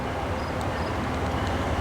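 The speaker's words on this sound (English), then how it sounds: "The train's a little early, pardon the drift." Commuter train arriving at Wachusett Station on the Leominster line, a steady loud rumble of rolling wagons with faint high squeals over it, no talk.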